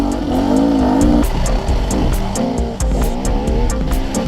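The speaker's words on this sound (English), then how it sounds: "This is Sam's new Vita. I'm taking it easy, but God, it's a gutsy engine." Sam's new Vita enduro motorcycle revs while being ridden, a loud gutsy engine note rising and falling through several throttle bursts, close and continuous without talk.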